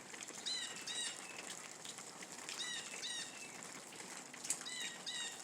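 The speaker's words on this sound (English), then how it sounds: "a small flock of birds that just flew by" A small flock of birds passes outdoors with soft, fluttering wingbeats and scattered faint high chirps over a constant background hiss, fairly distant and quiet.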